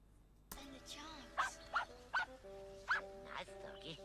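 A dog gives a few sharp, short yips and barks, spaced irregularly and fairly close, mixed with other voices and noise in the background.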